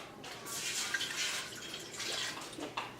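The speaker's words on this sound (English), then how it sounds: "I'm going to go ahead and add a cup of water." Plain water is poured into a pot on the stove for homemade chicken and dumplings, a soft, steady splashing trickle that runs close and fairly quiet for a few seconds.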